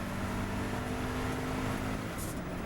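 Racing sportscars at Snetterton circuit in a SAKER Sportscar Challenge race, engines roaring steadily at speed along the straight, loud and continuous with a car passing.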